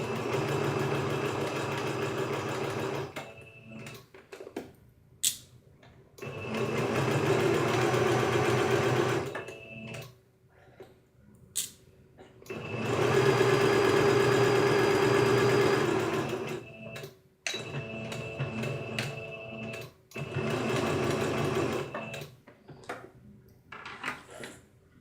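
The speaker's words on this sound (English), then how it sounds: "swapping the non-working sewing machine for a working one" A sewing machine runs in several long stretches, a close mechanical whirr stopping and restarting, with quiet pauses between runs.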